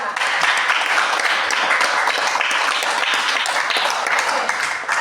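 Students in a classroom give a round of applause, a dense, steady burst of many hands clapping that stays loud and close for several seconds with no talking over it.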